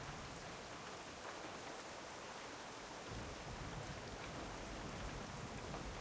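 Steady storm rain in the Vale from the World of Warcraft video game, with a dense, even hiss of falling drops that thickens slightly partway through, heard alone and fairly faint.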